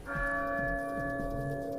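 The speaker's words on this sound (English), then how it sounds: "the scene will automatically end when the church bell tolls" In Resident Evil Village, a church bell tolls with one strong stroke that rings out in a long, sustained, humming decay, fairly loud and alone, with faint low thuds underneath.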